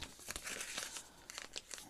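Smoky, semi-opaque Scotch-type tape is torn and handled close up, giving quiet crinkling and short ripping bursts in an irregular rhythm.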